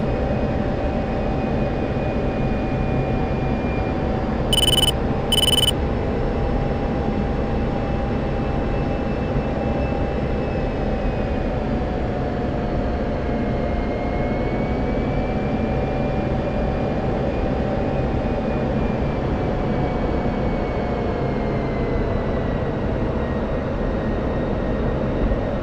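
An F-16 jet engine in DCS World roars in a steady, loud, unbroken drone with a faint whine on top, sustained throughout with a brief pair of electronic beeps early on.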